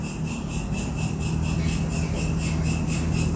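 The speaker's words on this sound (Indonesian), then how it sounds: "suara cecak, suara jangkrik, suara apa lagi tuh" Crickets chirp in a steady, fast pulsing trill around an old, reportedly haunted house in Bogor, continuous and fairly close, with no talking over it.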